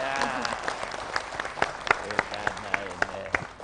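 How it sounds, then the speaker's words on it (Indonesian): Audience applause at a community gathering in honour of Professor Suratman, a moderate patter of clapping with a few sharper individual claps standing out, steady across the moment. "Kita beri tepuk tangan untuk Profesor Suratman."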